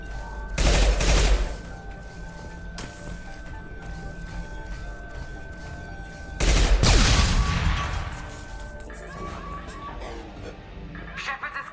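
Bursts of gunfire in the Mass Effect 2 video game: two loud, dense volleys of rapid shots a few seconds apart, with a quieter stretch of game ambience and a single sharp report between them.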